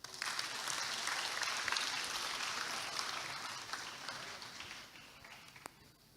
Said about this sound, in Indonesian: kita berikan tepuk tangan yang paling meriah untuk Bro David Noah.